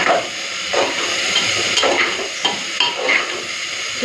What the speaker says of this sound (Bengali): চলুন প্রথমে পেঁয়াজটাকে লাল করে ভেজে নিই